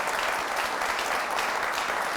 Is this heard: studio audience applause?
yes